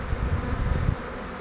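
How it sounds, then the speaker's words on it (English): Thousands of honeybees from a swarm fly around the openings of a wall, making a close, dense, continuous buzzing hum that eases off slightly near the end. "still had thousands of bees flying around here just around the openings"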